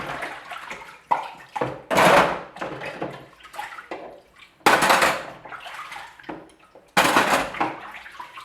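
Dishes being washed by hand in half a bowl of water, with repeated splashes and sloshing bursts as items are dipped and lifted, separated by quieter drips and small clinks.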